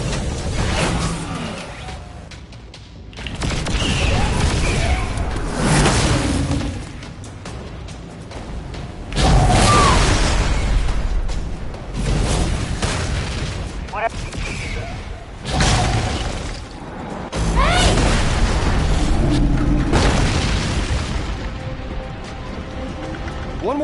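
Gunfire and explosions in the Tales from the Borderlands video game, arriving as repeated loud, broad bursts and crashes with whooshes and mechanical clatter across the stretch, while voices talk over the action at times.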